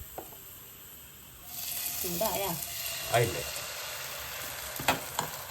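Batter for chattipathiri frying in a pan, with a soft, steady sizzle that swells after the first second and crackles close by. A brief voice cuts in once.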